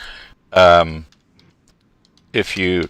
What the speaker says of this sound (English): I'm just typing in a few things here as we talk